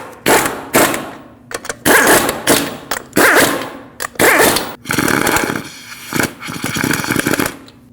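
A power tool whirring in uneven bursts as it slowly bottoms out a front brake caliper piston through an adapter on a Lexus IS250, close and loud with rattling mechanical noise between runs.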